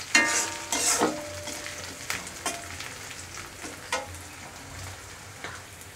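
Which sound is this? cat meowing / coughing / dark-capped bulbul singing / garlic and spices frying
garlic and spices frying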